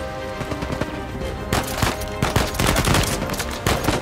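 Rapid bursts of gunfire from the video game Uncharted 4: A Thief's End, dense overlapping shots and automatic fire that swell louder midway through and keep rattling steadily to the end over a busy game soundscape.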